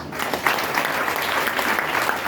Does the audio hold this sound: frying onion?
no